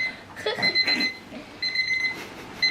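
Several alarm clocks beep in repeated bursts, shrill electronic tones pulsing on and off near the listener, with a man's muffled groans and voice mixed in between the rings.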